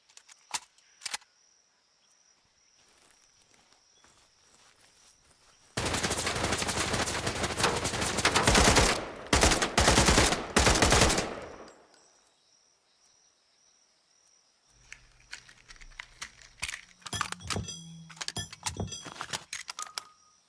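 Rapid machine gun fire in a first-person video game shooter, a dense loud burst of roughly six seconds, with scattered clicks and faint game sounds before and after.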